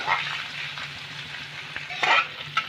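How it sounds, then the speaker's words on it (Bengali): Ginger and green chilli paste with turmeric frying in a pan for a vegetable chop mix, a steady close sizzle broken by a few louder stirring scrapes near the end, no talk. "আদা আর কাঁচা লঙ্কার পেস্টটাকে একটু সামান্য ভেজে নিয়েছি, একটু হলুদ দিয়ে দিলাম"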